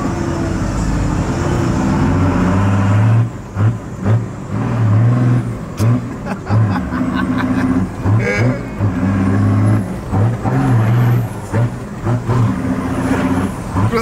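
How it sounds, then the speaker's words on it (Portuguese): Lowered Chevrolet Silverado pickup engine runs loud and steady, dipping at about three seconds and again later as gears are shifted by double-clutching, with uneven revving through the rest. "Vamos cruzar a marcha aqui agora."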